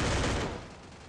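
Burst of rapid gunfire from the Free Fire battle royale game, loud and dense at the start and then tailing off over about a second, with no voices over it.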